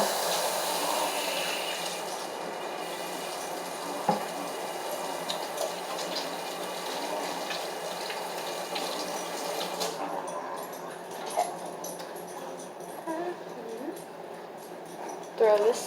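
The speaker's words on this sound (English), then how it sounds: "I'm going to wash my hands." Tap water runs into a kitchen sink while hands are washed, a soft steady splashing hiss with occasional clinks, fairly quiet, and a voice speaks intermittently underneath.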